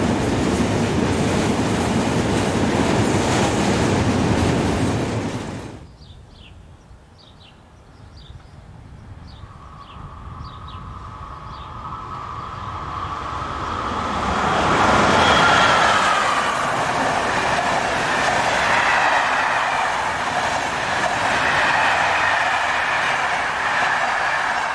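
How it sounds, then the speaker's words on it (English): Locomotive 645091, from a freight class built between 1958 and 1965, restarts its southbound train. A loud rumble fills the first six seconds, then drops to a quieter steady tone before the engine noise builds again and holds from about fifteen seconds. "Here, 645091 restarts its southbound train."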